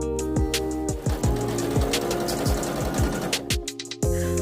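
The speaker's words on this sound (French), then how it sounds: "Je vais coudre sur les côtés et faire mon ourlet." Sewing machine stitching the side seams and hem of a top, a steady close mechanical whir with rhythmic needle thumps, briefly pausing then resuming.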